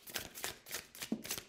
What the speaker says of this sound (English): So let's start shuffling and see what we have